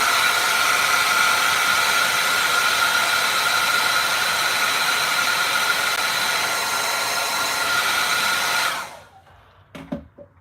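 A hair dryer blows loud and steady while drying acrylic paint on a deer painting, then switches off abruptly near the end, followed by a few faint handling knocks.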